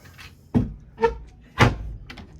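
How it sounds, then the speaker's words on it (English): A stiff wooden locker door aboard an old sailboat gives three dull knocks and thuds as it is worked open, each about half a second apart, close and fairly loud in a quiet cabin. "Door's a little stiff."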